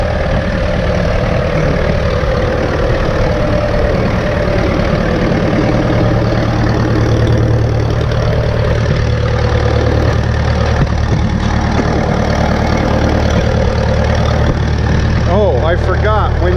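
A 1952 McCormick Super WD-6 tractor engine idles on diesel with a loud, steady low-pitched rumble and faint knocking throughout, close by, with a person speaking over it at times.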